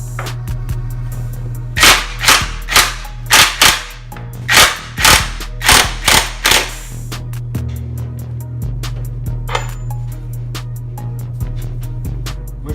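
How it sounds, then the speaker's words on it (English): Impact wrench hammering off a motorcycle's rear axle nut, a series of about ten loud sharp rattling bursts in quick succession, then a quieter stretch of clicks and handling noise over a steady low hum. "I'm going to use an impact wrench, which is unnecessary. You can use a breaker bar, but all I have is an impact wrench"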